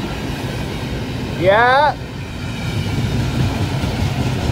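A BNSF manifest freight train rolls past at close range with a steady, continuous rumble, and a person briefly speaks over it.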